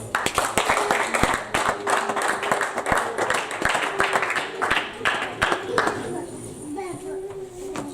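A church congregation claps through an evening service, a dense, steady run of hand claps with voices of children and adults mixed in, the clapping thinning out toward the end.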